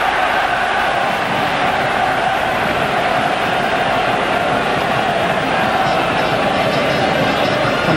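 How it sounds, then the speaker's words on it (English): Football stadium crowd at an Ireland versus Netherlands World Cup qualifier roars in a sustained, loud wash of cheering as Ireland attacks, steady throughout. "you can hear the response from the crowd"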